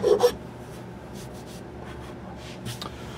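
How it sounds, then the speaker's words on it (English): A big rasp files down a wooden rifle stock, producing soft, close scraping strokes in brief irregular passes over a quiet background. "another job for the big rasp."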